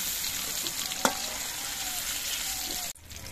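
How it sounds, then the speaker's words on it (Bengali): Prawns fry in hot oil for a banana flower dish, making a steady, close sizzle with a single utensil clink early on. The sizzle drops away sharply near the end. "চিংড়ি মাছ কিন্তু বেশি ভাজার প্রয়োজন নেই, মিনিট 2-এর মতো ভেজে নিলেই হয়।"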